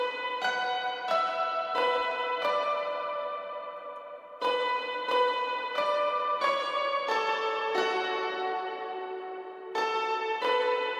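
Skyrim's Far Horizon main motif rendered in a new key on bright, bell-like tones, struck notes ringing out in a slow, steady melodic sequence with long decaying resonance and no voices.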